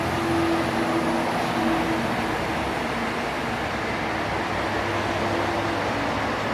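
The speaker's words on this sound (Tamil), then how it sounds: "இன்னொரு மெட்ரோ வருது." A steady loud rumble of a metro train rolling along in Dandenong, Melbourne, constant and close, with a faint high whine over the roar.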